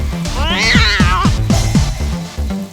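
A cartoon cat, a fearsome-looking one entering a park, gives a series of rising and falling meows over bright background music, loud and close.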